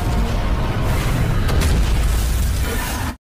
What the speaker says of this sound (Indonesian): menyebabkan sebuah ledakan besar